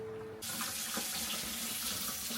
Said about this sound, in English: the hose is running off that stagnant water into my outdoor fish, into their barrel